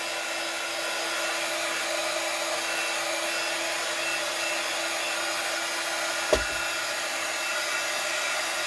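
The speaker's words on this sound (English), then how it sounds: "Now I will dry this because otherwise it will just go away." Heat tool blowing hot air to dry gesso on a glass jar, a steady, even whooshing hum that runs unbroken and close, with one small knock partway through and no talking.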